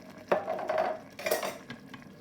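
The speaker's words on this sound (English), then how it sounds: "give it another stir" A spoon scrapes and clinks against an Instant Pot in a few short strokes while stirring bolognese sauce, close up, with no talking.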